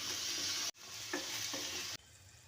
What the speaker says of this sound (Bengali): এবার আলুগুলো দিয়ে ফোড়নের সঙ্গে ভালোভাবে নাড়াচাড়া করে নিচ্ছি